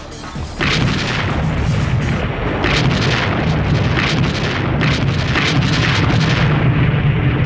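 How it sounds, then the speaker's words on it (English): Sustained WWII artillery barrage pounding a heavily defended hill in France, a dense continuous roar of booms and rumbling blasts that builds after a quiet start and stays loud throughout. "It always began with an extended artillery barrage."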